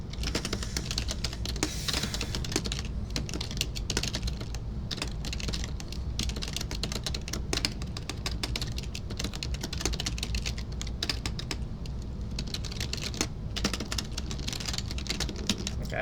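Rapid, continuous typing on a computer keyboard, with close, dense key clicks and occasional louder taps, goes on without pause and without talk.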